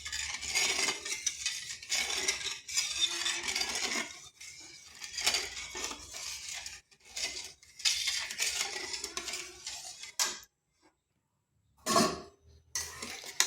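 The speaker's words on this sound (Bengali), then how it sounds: "এরপর চিনি, লবণ আর তেল ভালোভাবে জলের সাথে মিশিয়ে নিচ্ছি।" A spoon clinks and scrapes around a bowl as sugar, salt and refined oil are stirred into water, in steady rhythmic bursts with brief pauses, close and clear with no talking.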